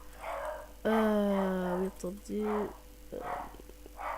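A pet dog gives a short whining yelp and a brief bark close by, mixed with someone speaking French indoors.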